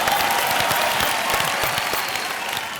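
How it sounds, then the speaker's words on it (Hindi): Audience applause at a television game show studio, a continuous crowd clapping that holds steady and fades slightly toward the end. "अरे तालियां।"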